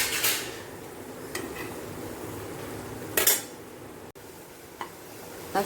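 Spinach being sautéed in half a cup of water in a pan, with several metal spoon scrapes and clinks against the pan spaced apart over a quiet background with little sizzle.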